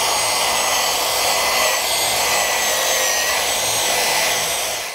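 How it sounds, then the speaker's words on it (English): Power wire brush scuffing the paint off metal roof flashing, a steady loud abrasive whir that runs close and continuous before tapering off at the end. "first thing we want to do is scuff it up using a wire brush."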